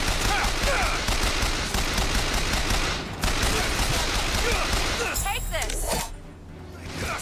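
Gunfire roars in the video game BioShock Infinite: loud, dense bursts of rapid shots keep going almost nonstop. It breaks briefly around the middle and again near the end, where a sweeping whoosh cuts in.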